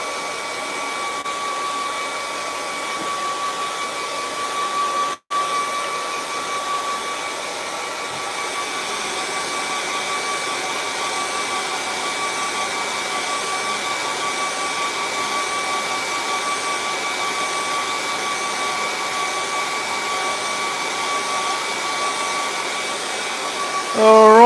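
A hair dryer blows steadily and loudly for the whole stretch, drying paint on a waterfall and moon scene painting, with one brief cutout near five seconds and no talking.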